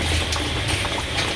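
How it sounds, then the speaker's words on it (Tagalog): Steady sizzling and bubbling of bitter melon frying in hot oil in a large pan, close and continuous, with a few brief pops. "Kapag ako nagpiprito talaga, kailangan malaking kawali."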